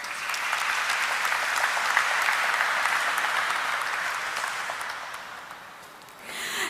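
Audience applause at a stock exchange listing ceremony for ideaForge Technology Limited's IPO: dense, steady clapping from a crowd, holding strong for several seconds before easing slightly and swelling again at the end.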